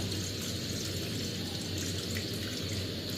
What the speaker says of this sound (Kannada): ಫಸ್ಟ್ ವಾಟರ್ ಹಾಕ್ಬೇಕು